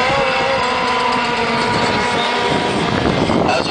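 A rescue boat motor drones steadily and loudly at a race in Dessau, its engine note shifting slightly as the craft comes in close to land.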